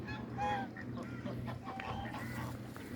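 A flock of geese along the Yeşilırmak river honks and calls in short bursts at close range, while a low steady background murmur runs underneath.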